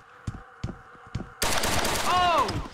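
AK-47 fire in the video game Object N: three sharp single shots spaced about a third of a second apart, then a loud sustained burst of automatic gunfire with whistling tones layered over the clatter.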